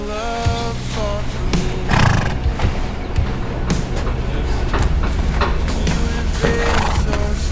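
Horses whinny repeatedly near hay bales during a summer hay harvest, loud and close over a busy background of shuffling, hoof clatter and rustling.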